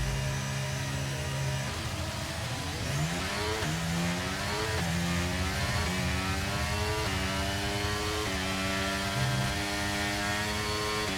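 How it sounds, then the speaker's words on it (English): Red Bull Formula 1 car engine in an F1 video game, a loud continuous high-pitched whine rising and dropping through repeated gear shifts as the car accelerates. "I don't like the engine noise in the Red Bull."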